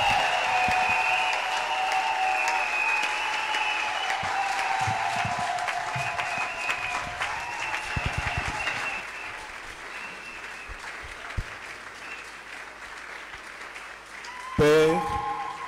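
A church congregation applauds and cheers to welcome a patriarch at a worship gathering, sustained clapping mixed with crowd voices and tonal music, easing off midway and then continuing more quietly.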